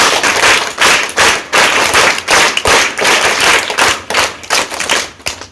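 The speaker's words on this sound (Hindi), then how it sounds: "जोरदार 3 ताली बजा करके हम लोग स्वागत करेंगे इन लोगों का" Loud welcome claps from a school audience at a research program event, crowd hands striking together in firm rhythmic groups of three, repeated several times over a few seconds.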